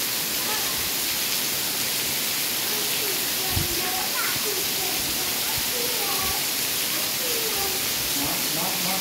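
Heavy rain pours steadily at a Buddhist temple complex, a dense, continuous hiss that fills the whole stretch at even loudness, with a few faint voices murmuring underneath.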